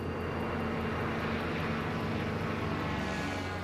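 Test plane climbing in flight, a steady loud broadband engine roar with a low droning hum that holds constant throughout, no voices.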